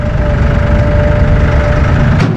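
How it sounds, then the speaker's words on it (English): A Massey Ferguson 1M compact tractor with eHydrostat transmission idles close by, its engine a steady, even rumble with a faint whine that holds unbroken throughout. "To start the tractor, we're going to do that there."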